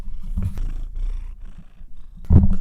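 A house cat purrs right against a microphone while rubbing on it, giving a close, low rumbling texture with bumpy handling thumps and a louder muffled knock near the end.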